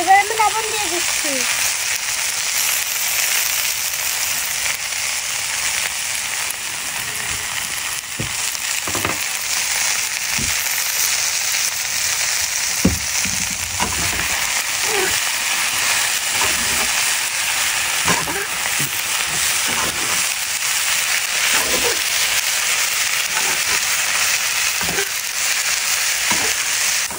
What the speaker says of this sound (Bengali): ধনেপাতা ভাজা হয়ে গেছে